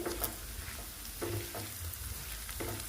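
A fenugreek (methi) mixture fries in a pan as turmeric and chili powder are stirred in, giving a continuous close sizzle with irregular stirring scrapes and taps and no voices.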